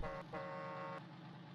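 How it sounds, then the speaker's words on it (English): Horn of a recently bought truck honking twice, a brief toot and then a longer steady blast, loud and close with a low engine idle underneath. "I'll let y'all hear the horn."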